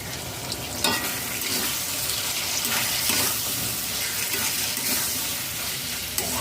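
Pointed gourd (potol) and shrimp fry over a high flame with soy sauce, crackling and sizzling loudly, while stirring adds periodic scraping bursts at close range. No one talks.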